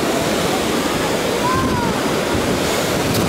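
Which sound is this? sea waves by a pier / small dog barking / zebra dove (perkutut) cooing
sea waves by a pier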